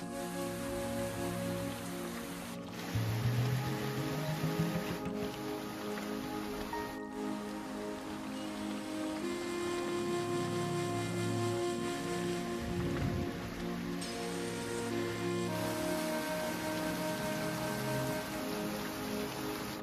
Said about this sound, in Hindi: मेरा यहाँ पे तो बारिश शुरू हो गया है आप लोग देख सकते हैं कितना बारिश हो रहा है ना